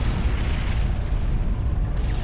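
A commander unit blows up in Supreme Commander FAF, a real-time strategy game. A dense, roaring explosion rumble stays loud and steady throughout, booming heavily in the low end.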